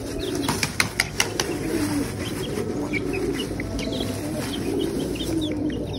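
Pigeons and a pigeon chick cooing and clucking steadily at close range, with a few sharp clicks near the start over a constant background hum.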